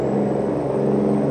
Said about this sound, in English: I love the sound of this N14. Good sounding engine.